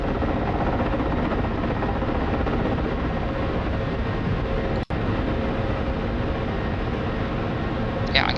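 A helicopter starts up, with its starter and APU spinning and the rotors beginning to turn, making a loud, steady, close mechanical whine and roar that carries through the whole stretch.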